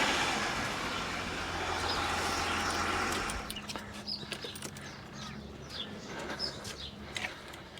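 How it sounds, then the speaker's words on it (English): An old car's engine idles quietly with a low, smooth rumble, first under a broad wash of noise that then drops away, leaving birds chirping close by over the faint running motor. "So the motor runs quiet as a mouse"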